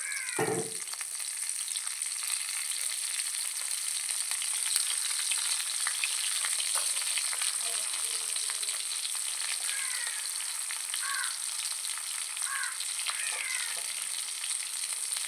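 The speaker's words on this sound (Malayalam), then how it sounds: "ഇതൊന്ന് വറവിടാം" Onion, dried red chilies and fenugreek seeds crackle in hot oil for a tempering, a bright dense sizzle holding steady throughout, with a few faint chirpy background sounds and no talk.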